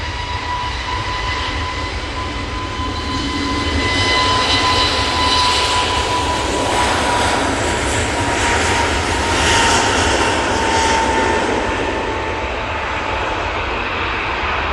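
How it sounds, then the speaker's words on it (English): An Airbus A321neo jet climbs away from Manchester Airport, a loud, steady engine roar with a whining tone that swells in the middle and holds broad and close throughout, no voices. "that A321neo is off to Preveza"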